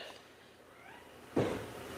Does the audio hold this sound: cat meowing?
yes